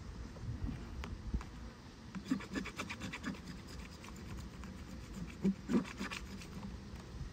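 A hive tool scrapes propolis off wooden beehive frames during an autumn hive inspection, giving faint, intermittent rasping and scratching strokes close by under a low background hum.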